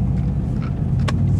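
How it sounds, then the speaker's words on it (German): A Mercedes C63 AMG Coupé's 4-litre biturbo engine gives a steady, loud, deep rumble that runs without a break throughout. "meine Einführung zum 4 Liter Biturbo-Motor."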